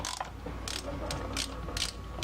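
Ratchet wrench clicking in short bursts while removing crankcase bolts on a 1984 Honda 200M, close and fairly quiet with pauses between strokes.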